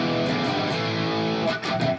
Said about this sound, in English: Now I've got a really heavy distorted guitar tone on this EVH guitar.